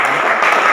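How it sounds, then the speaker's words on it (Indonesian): Audience applause for a presenting group at a teacher-training performance assessment, a short burst of loud, dense clapping. "tepuk tangan untuk kelompok"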